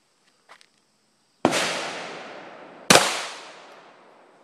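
Two loud 9mm pistol shots from an FNX-9 at an outdoor shooting range, each a sharp crack with a long ringing decay, spaced about a second and a half apart after a faint click.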